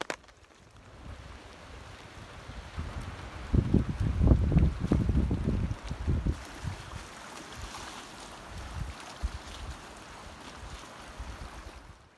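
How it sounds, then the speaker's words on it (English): Steady gusting wind buffets the microphone with low rumbling surges, over a faint watery wash in the background, on a gray day at a small lake bay in the Boundary Waters Canoe Area. "It is gray and windy, although we're in a little bay here."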